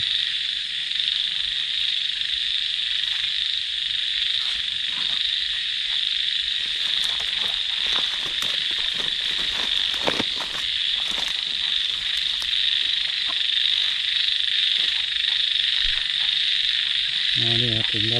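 Frogs croaking at a rocky pond at night in the forest, a dense continuous chorus close by with insects trilling beneath and a few faint knocks and rustles.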